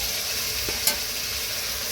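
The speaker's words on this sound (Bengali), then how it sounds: "মশলার সাথে ভালোভাবে কষিয়ে নেব" Boiled potatoes and fried eggs being stir-fried with spices in a pan, a steady soft sizzle with one brief scrape of the spatula, alone and fairly quiet.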